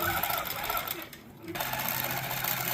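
A computerized quilting machine stitches out one continuous quilt pattern with no jump stitches, a steady rapid mechanical whir that runs loud and close, dips briefly and then picks back up.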